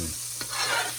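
Butter melting in a hot pan, a soft steady sizzle close by with a brief scrape of stirring, no voice.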